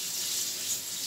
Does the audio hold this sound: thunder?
no